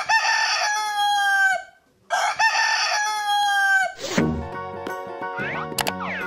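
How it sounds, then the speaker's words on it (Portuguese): A rooster crows twice in long, loud, harmonic calls, followed by a bright cartoonish boing-like effect with bouncy tones. "Vamos ouvir o som que o galo faz."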